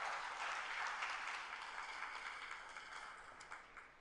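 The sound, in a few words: congregation applause in church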